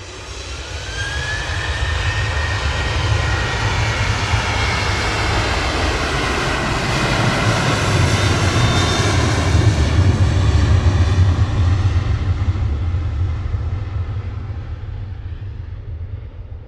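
Virgin and Emirates jets departing Manchester Airport make a loud, sustained roar that swells toward the middle and then slowly fades, with a rising engine whine early on, heard alone without talk.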